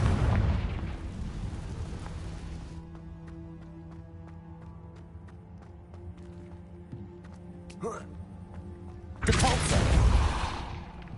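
A Confringo blasting spell detonates in the Hogwarts Legacy video game, a loud broad burst that fades into a quiet humming ambience with a brief whoosh, then a second heavy blast near the end.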